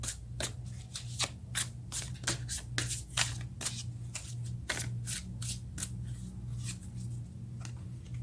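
A deck of tarot cards is shuffled close up, a quick run of crisp riffling snaps repeating in a steady rhythm over a low background hum, with no talking.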